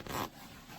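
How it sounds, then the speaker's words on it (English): A winter sleeping bag zipper is pulled once in a short quick rasp, close to the microphone, then fades into quiet room noise. "don't go racing with the zipper"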